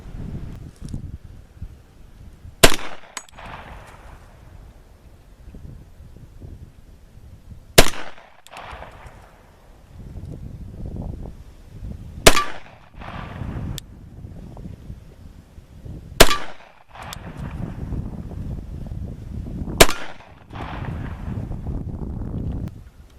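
Five pistol shots fired at a target at 15 yards outdoors, each a sharp loud crack spaced several seconds apart, with wind and rustling noise in between.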